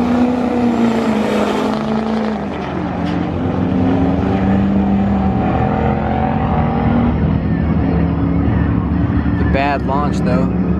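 A nitrous-equipped truck launches hard, its engine droning loud and steady with shifting pitch, with crowd noise and chatter around it throughout.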